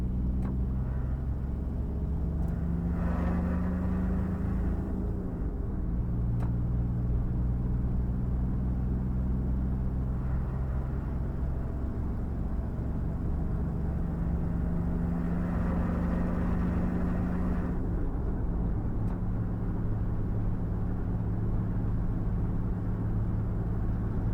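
Honda car fitted with a Kubota turbo diesel engine drives along, a loud constant low rumbling drone with engine pitch rising and falling through gear changes, heard from inside the cabin.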